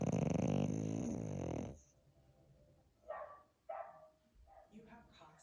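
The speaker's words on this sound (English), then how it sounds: "so you could see why your dog is barking" A dog barks in a TV advertisement for a home security service. A few short, loud barks and yips come after a stretch of broadcast sound, close and clear.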